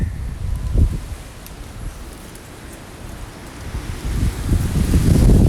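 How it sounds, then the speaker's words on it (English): Wind blowing steadily outdoors near abandoned apartments in Japan, a broad rushing roar buffeting the microphone with low rumbles, swelling louder toward the end. "Oh god, the wind."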